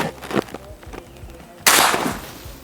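A Galaxy LDT air rifle fires a single shot through a chronograph in an FPS test, a sudden loud crack with a brief noisy tail, preceded by faint knocks and clicks.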